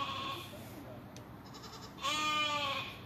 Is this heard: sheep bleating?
yes